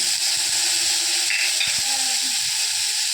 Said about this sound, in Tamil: நல்ல சின்ன வெங்காயம் வதங்கிருச்சு